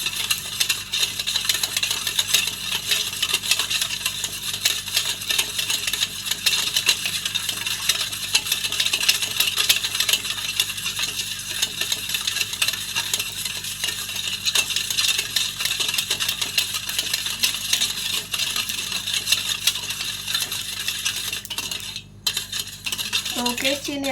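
A spoon stirring a milk and sugar mixture in a metal vessel until the sugar dissolves, giving continuous scraping and clinking against the pan, steady and close, with no voices.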